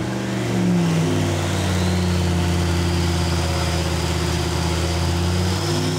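A turbocharged big block Ford engine runs on test with a loud, close, continuous roar whose pitch shifts slightly as it holds and rises in speed.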